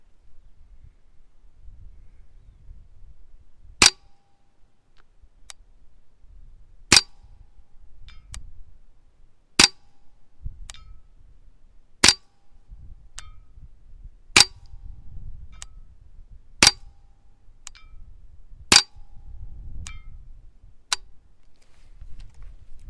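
A Ruger 10/22 rifle fires at a 200 yard target, eight sharp, evenly spaced cracks about two to three seconds apart over quiet outdoor background.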